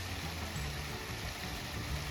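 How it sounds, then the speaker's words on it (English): Water trickles steadily down a small waterfall on an outdoor walk, a continuous close, even rushing with no voices. "listening to the water trickling down"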